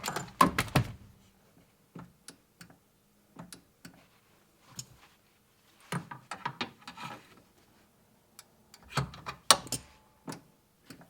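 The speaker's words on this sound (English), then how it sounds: "Just when you push the clutch, you hear that click right there." A clutch-pedal switch for an aftermarket cruise control in a Volkswagen Vanagon, giving sharp mechanical clicks in scattered bursts as the pedal is pushed, close up and with no talking.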